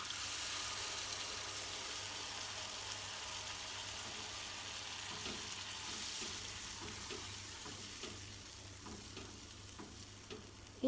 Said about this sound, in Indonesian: Lalu tambahkan air.